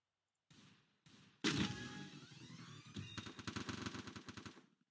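Rapid automatic gunfire from the Free Fire mobile battle game: two short bursts, then sustained loud machine-gun fire with dense repeated shots and faint game sounds behind it.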